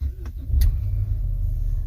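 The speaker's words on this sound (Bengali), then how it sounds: "গাড়িটা স্টার্ট হয়ে গেছে।" A Ford Taurus automatic car's engine turns over and catches at the push of a start button, settling into a steady low idle rumble.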